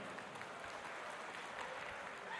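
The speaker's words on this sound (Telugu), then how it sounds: "చప్పట్లతో స్వాగతం చెప్పుదాం." A crowd at a political meeting in Maheshwaram gives a guest a faint, steady round of applause, a soft, continuous patter of many hands that sounds distant.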